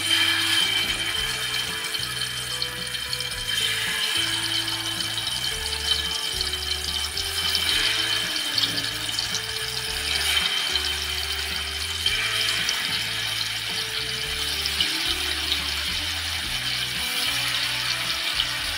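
Stuffed squid fries in hot oil in a pan, giving a continuous crackling sizzle. Low, rhythmic tonal thumps run underneath it throughout.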